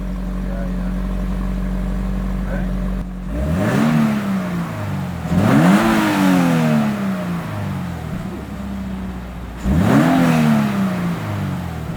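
A 2022 Subaru BRZ/GR86 with a Tomei Expreme Ti titanium catback exhaust revs hard three times close by, each rev swelling up and falling away with a few pops, with a steady idle between the bursts.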